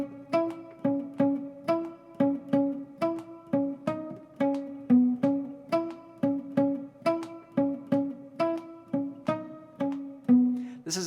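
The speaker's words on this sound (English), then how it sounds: "This is a cool kind of palm muted percussive part." Acoustic guitar playing a palm-muted, percussive riff, a steady repeating pattern of short muted notes with sharp slapped accents, close and clear with no talking.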